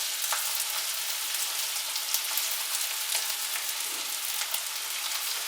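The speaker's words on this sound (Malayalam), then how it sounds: "ഉരുളക്കിഴങ്ങ് ചേർത്തിട്ട് നമുക്ക് ജസ്റ്റ് ഒന്ന് ഇളക്കണം" Boiled, mashed potatoes with chilli powder frying and being stirred in a pan for a potato curry, giving a steady close sizzle with soft scraping stir strokes scattered throughout and no voices.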